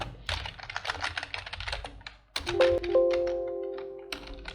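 Data being typed on a computer keyboard, a quick burst of close keystrokes, a brief lull, then more rapid tapping with a sustained electronic tone sounding under the last part.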